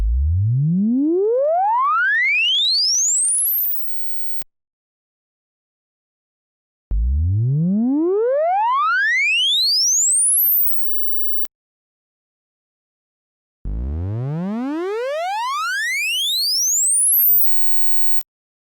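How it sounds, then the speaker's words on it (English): An AX73 synthesizer tone sweeps steadily upward from a deep bass to a high whistle, three times in a row, with silent gaps between the sweeps. "This gives us a rising tone, and we can change the timbre of the tone using the available filter modes."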